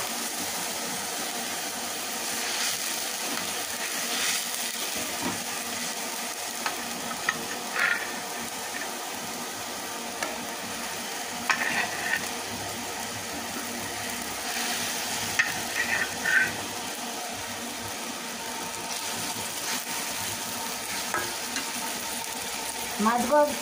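A pot of fish cooking in boiling spiced water bubbles and simmers steadily with a soft, continuous sizzling hiss and occasional faint clinks, no voices.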